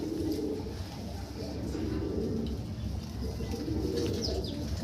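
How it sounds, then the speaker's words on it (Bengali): Fancy domestic pigeons coo in soft repeated low calls, fairly faint against a steady background hum. "এত সুন্দর সুন্দর সব পায়রাও সংগ্রহ করেছে।"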